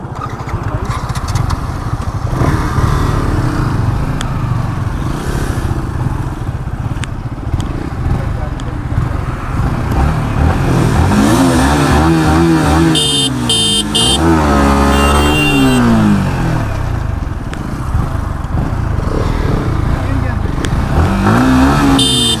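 Two motorcycles, a Yamaha R15M V4 and a Bajaj RS200 BS6, race flat out along a highway, their engines droning loudly and revving in rising, climbing whines, with someone talking over the noise.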